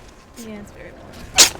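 A single sharp sneeze bursts out near the end, loud and close, after a brief spoken remark.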